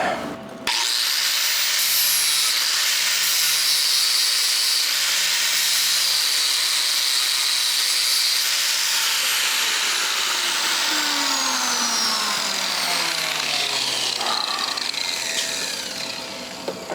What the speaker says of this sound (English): grinder and just grind it down.